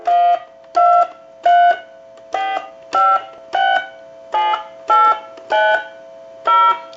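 Touch-tone keypad of a European telephone being converted and repaired sends a sequence of ten evenly spaced dual-tone beeps, each about a third of a second, loud and clear with no talking.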